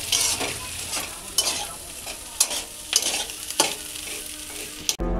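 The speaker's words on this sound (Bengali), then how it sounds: "এবার মশলাগুলো সবগুলো দিয়ে চাউমিনটা দিয়ে দেবো" Chow mein noodles frying in a pan with spices, a loud close sizzle with frequent scraping stirs and sharp clinks of the utensil, ending in a sudden knock.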